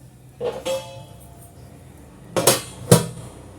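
A metal lid clanks onto a pot of chicken mandi with smoking charcoal inside, then a weight is set on top: two close clinks followed by two sharper, louder metallic knocks, with no talking.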